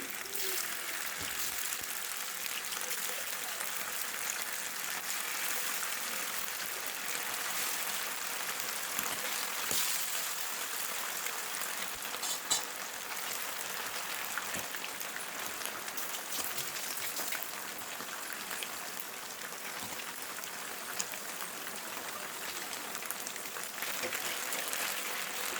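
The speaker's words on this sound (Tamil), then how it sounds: "சிக்கன் மசாலாவோட பரட்டி வச்சுருந்தோம் பார்த்தீங்களா, அது பொரித்து எடுத்துக்கலாம்" Chicken marinated in masala deep-frying in a kadai for butter chicken: a constant, rain-like crackling sizzle with scattered sharper pops, steady and close throughout, with some talking at times.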